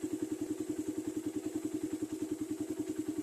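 A motorcycle engine idles steadily at low RPM, around 1.25 thousand, giving an even, rapid putter of regular firing pulses. It holds constant and close throughout, with no voices.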